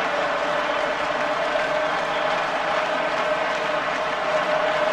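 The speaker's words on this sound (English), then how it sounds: "Listen to this crowd, it's the French who are singing now." A stadium crowd of French rugby supporters sings and roars throughout, a dense, steady wall of massed voices filling the air at a 1999 Rugby World Cup quarter-final play-off between Argentina and Ireland.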